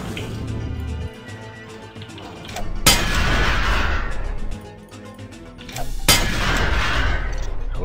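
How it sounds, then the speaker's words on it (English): Two loud game explosions like dynamite blasts in Deus Ex at a missile base, each a sudden broadband burst with a long rumbling tail, arriving a few seconds apart over a low game ambience. "It uh, makes an explosion noise when you do that."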